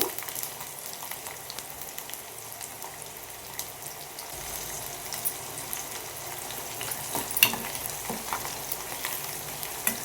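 Garlic frying in hot oil for a spicy North Karnataka puffed-rice churumuri snack: a soft, steady close sizzle with faint stirring scrapes and a few crackles, no voices.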